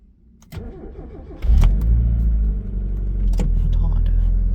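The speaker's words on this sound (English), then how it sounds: "We just gotta warm her up first, so I'm gonna take her for a little drive." A car engine turns over and catches, then settles into a loud, steady low rumble as it warms up before a drive, with a few brief clicks and knocks near the start.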